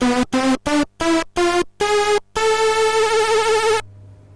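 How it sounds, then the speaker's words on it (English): Pocket Operator PO-28 Robot synthesizer playing an A harmonic minor scale: seven short, bright, buzzy notes step upward one after another, then a longer held final note. Loud and close, with no talking. "But the robot also features a sharpened 7th note, allowing for an A harmonic minor scale to be played."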